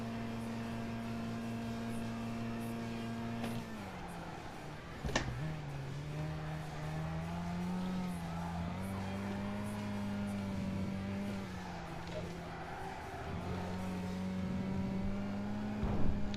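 A PT Cruiser on stock transmission races in Gran Turismo 5, its engine droning steadily at high revs with pitch shifts as it changes gear. A sharp click breaks in partway through, and the drone continues unbroken.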